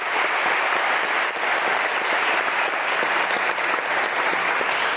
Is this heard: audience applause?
yes